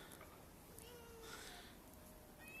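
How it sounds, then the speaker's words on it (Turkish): Domestic cats meow faintly indoors, producing a few soft, thin calls over a quiet background hiss. "İşte benim kedilerim."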